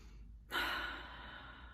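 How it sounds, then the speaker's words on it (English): One slow, deep breath is drawn in and then let out softly, a close, quiet airy rush that starts abruptly after a moment of near silence and fades gradually. "taking a deep breath"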